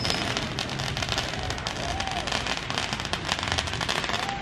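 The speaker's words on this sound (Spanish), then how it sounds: "por allá están tronando cohetes" Dense crackling pops of firecrackers go off continuously at a distance, forming a steady rattling wash with no pauses.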